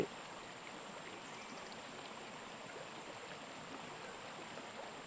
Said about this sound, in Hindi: जो कलकल की ध्वनि है, जल की,